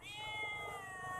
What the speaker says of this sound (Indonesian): Ini kembali saya menemukan kucing ini.